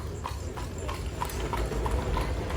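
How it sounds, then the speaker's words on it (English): Horse hooves clip-clopping as the animal pulls a carriage through a Pennsylvania town street, a steady even rhythm of hoof strikes, moderately close. "there's a horse chariot, y'all"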